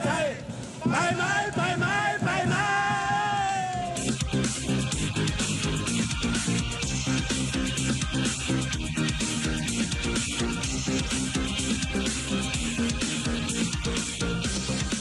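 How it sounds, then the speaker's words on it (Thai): Roaring cheers from a big stadium crowd of Swat Cat football fans, dense and continuous throughout, with a chanted song rising over the din at the start before the steady crowd roar takes over. "เสียงเชียร์อันกระหึ่ม จากฝูงแมวปีศาจสวัสดแคท"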